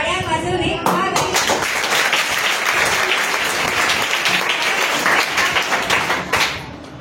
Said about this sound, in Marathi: तर टाळ्या वाजवणे भाग आहे.